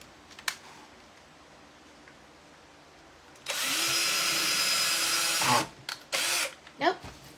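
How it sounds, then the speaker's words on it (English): A power drill bores into the plastic leaf of a toy fairy treehouse, a steady close whine lasting about two seconds before stopping, followed by a few short handling bursts. "It's going to drill a little bit into the leaf"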